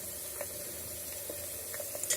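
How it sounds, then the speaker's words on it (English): Green peas and tomato hit a pan of frying onions, setting off a quiet, steady sizzle. Faint stirring clicks break in now and then, and no one speaks. "Now the onions are ready. Now add some green peas and the tomato."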